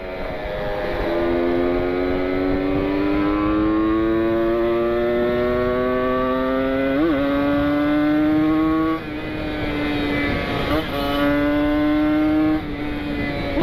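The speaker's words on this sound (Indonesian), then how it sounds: "Meskipun mesin saya ini udah ngeletrek, tapi di gaspol mah hayu." A Kawasaki Ninja 150 RR two-stroke motorcycle with a worn, rattling engine revs hard on a ride in Ciwidey, a loud close whine rising in pitch through several gear changes with brief dips between them.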